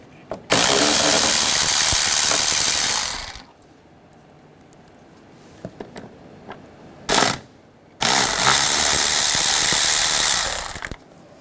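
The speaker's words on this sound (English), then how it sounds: "Using a 10 millimeter socket, take these two bolts out." A power ratchet with a 10 mm socket runs in two long loud bursts, with a short burst between them, as it removes bolts from a 2004-2009 Toyota Prius during ignition coil replacement. There is no talk.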